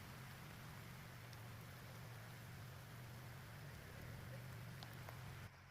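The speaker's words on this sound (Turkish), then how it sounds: "iyi yağmur yağıyor" Steady rain falls outdoors beside a canal in France, a soft even hiss of drops with a low rumble underneath, faint and continuous until it drops away near the end.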